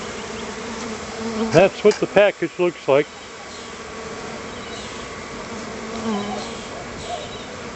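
A steady bee buzz hums in the background while a person speaks briefly over it.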